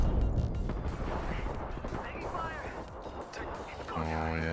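Gunfire in the battle-royale shooter Apex Legends, dense crackling shots and impacts mixed into a busy game soundscape, with a voice speaking over the continuous fire and a sharper tonal burst near the end.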